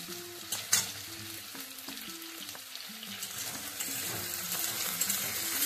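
Capsicum sizzles and fries in a pan for chilli chicken, a continuous crackling hiss with occasional stirring scrapes and clinks, close and fairly quiet, with no voices.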